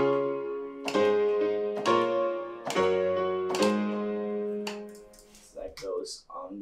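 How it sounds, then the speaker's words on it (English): Piano chords from a song arrangement, played beneath guitar, strike in a steady rhythm of four evenly spaced, ringing, sustained chords, then give way to a short stretch of softer, broken sound at the end. "the first thing I did was just to add piano"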